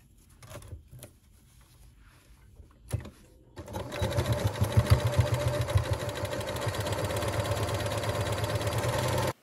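A domestic sewing machine runs steadily, stitching a pleat along the edge of fabric after a few quiet handling clicks, its fast mechanical whir close and continuous.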